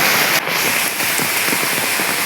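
Heavy rain pours steadily, a dense continuous hiss of drops hitting surfaces, loud and close throughout.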